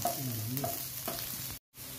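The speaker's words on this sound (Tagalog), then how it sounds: "Kaya nagbawas tayo ng mantika, magigisa na tayo. Unahin natin luya." Ginger sautés in oil for a pesang dalag dish, with close stirring and sizzling, then a brief silent gap near the end.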